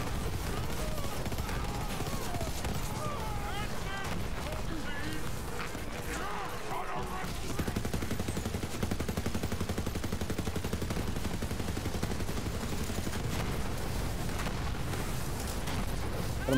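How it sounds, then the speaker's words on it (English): Shotgun fire in the video game Borderlands 3, a dense run of loud gunshot blasts and explosive game effects over busy soundtrack noise, with players talking throughout. "My shotgun's doing pretty good work."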